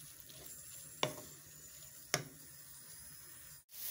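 Ingredients for fish pastilla sauté in a pan with a soft, steady sizzle, broken by two sharp utensil clicks or stirs against the pan.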